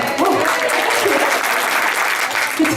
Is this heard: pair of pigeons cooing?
no